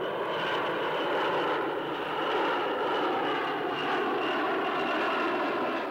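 Steady, loud drone of an airplane engine in flight, heard from inside the cabin as an even, continuous roar with no breaks.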